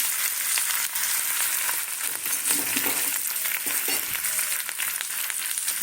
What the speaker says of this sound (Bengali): যে আলুটা সেদ্ধ সেদ্ধ করে নুন হলুদ মাখিয়ে রেখেছি, নুন লঙ্কা হলুদ, এইটাকে ভাজবো। তেলটা গরম হয়ে গেছে